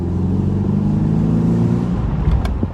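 A swapped BMW Z4 engine revs up to roughly 4,000 RPM with boost building after a boost leak repair, a loud, steady low engine drone holding for about two seconds, then easing off with a few brief clicks near the end.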